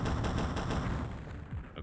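Cannon fire in the X-COM video game comes as a loud, rapid burst of repeated shots that rattles steadily for about a second and a half, then trails off into a rumbling tail.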